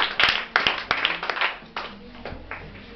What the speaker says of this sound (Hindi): अरे वाह, ताली बजाओ जरा जोर से।